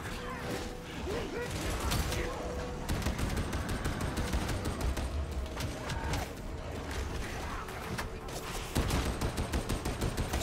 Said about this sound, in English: Stop shooting me with bullets.